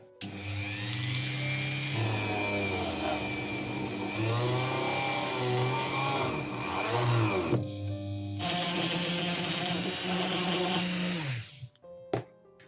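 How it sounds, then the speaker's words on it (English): Power drill boring out the neck hole of a custom Wednesday Addams doll, a steady close whirring motor that shifts pitch as the bit bites, running almost continuously before stopping abruptly near the end. "But first I have to drill out the hole in the neck."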